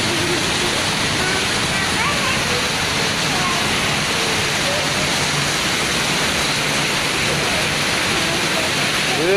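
Heavy rain with strong wind pours down as a loud, steady, dense wash of noise that holds unbroken throughout, swelling slightly at the very end.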